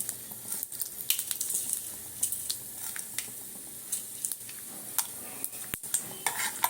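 Mustard seeds splutter in hot oil with a few chana dal, producing faint irregular pops and crackles over a soft sizzle, plus stirring and an occasional utensil clink, heard at close range with no talking.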